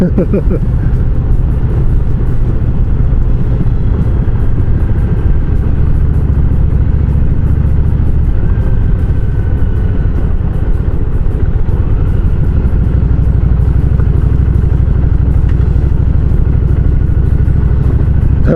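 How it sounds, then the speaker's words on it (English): An Amazon delivery truck rumbles past nearby, its low engine drone swelling and fading against steady road and engine noise. "That was an Amazon delivery truck."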